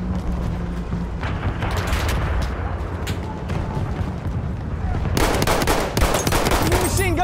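Continuous rattling gunfire and explosions from a World War I battlefield in Battlefield 1, growing louder and denser toward the end, with no clear speech over it.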